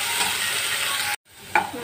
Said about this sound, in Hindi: थोड़ा सा नमक डाल देंगे और हल्का लाइट ब्राउन होने तक इसे फ्राई करेंगे।